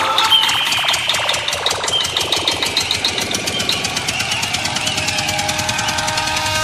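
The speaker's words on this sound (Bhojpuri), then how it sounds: "तो चालू कर जनरेटर।" A generator engine at a Bhojpuri devotional music event is started and settles into a loud, steady running beat. A rhythmic knocking chug continues throughout over a background of music, with no talk.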